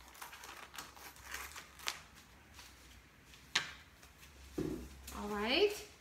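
Plastic vacuum sealer bag sleeve being handled and cut, with soft crinkling, a few sharp snips and rustles at close range, and quiet speech in between.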